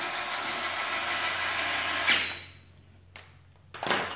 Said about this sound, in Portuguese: Agora eu vou colocar as molas de volta.